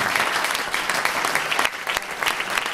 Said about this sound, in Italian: Un grande applauso a Massimo Barrini.